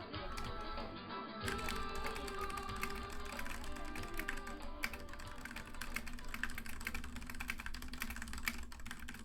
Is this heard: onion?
no